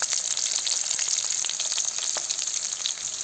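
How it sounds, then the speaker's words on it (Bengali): Onions poured into hot oil in a pan fry with a loud, dense, continuous sizzle, full of crackling pops close by, with no talk. "তারপরে দেখুন আমি পেঁয়াজগুলো দিয়ে দিলাম সম্পূর্ণ পেঁয়াজগুলো ঢেলে দিলাম"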